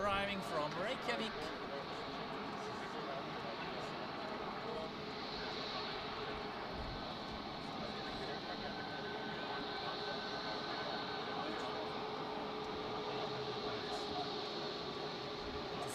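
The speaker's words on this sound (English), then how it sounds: "here we have Iceland there with another 737 MAX arriving from Reykjavik" An Icelandair Boeing 737 MAX jet arriving from Reykjavik at Zurich, its engines a steady broad roar held throughout, with voices talking over the aircraft noise.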